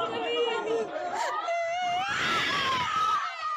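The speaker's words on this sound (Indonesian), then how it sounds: "Puluhan penumpang berteriak histeris saat sejumlah penumpang kapal nekat terjun ke laut." Dozens of passengers aboard the Pelni ship Lambelu, held off the port of Maumere, scream hysterically as others leap into the sea, a continuous wailing crowd clamor with overlapping shrieks and chatter.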